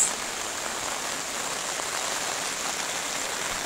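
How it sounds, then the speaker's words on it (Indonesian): Heavy rain pours at a hill campsite, a dense, even hiss of falling drops that holds steady throughout with no talking. "Langsung tiba-tiba hujannya datang."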